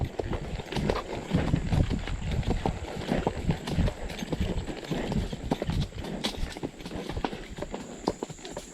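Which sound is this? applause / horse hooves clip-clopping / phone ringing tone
horse hooves clip-clopping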